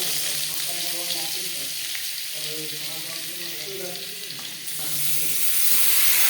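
Marinated chicken leg pieces sizzle in refined oil in a wok over high to medium flame, a steady broad fry with some stirring, while faint background speech-like tones sit underneath throughout.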